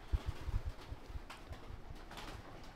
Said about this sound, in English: So much pigeon poo around. Oh, you can hear them all up there.